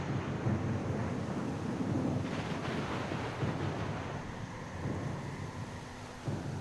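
Stormy weather at sea in the role-playing game Pillars of Eternity II: Deadfire, with a steady roar of wind, rain and rolling surf, low rumbles and gusts that stay loud and continuous throughout, no talking.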